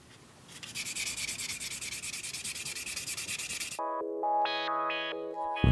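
Chestnut wood rubbed by hand with water-soaked wet sandpaper, a rapid rhythmic scraping of quick back-and-forth strokes for several seconds, then cut off by a bright electronic tone sequence.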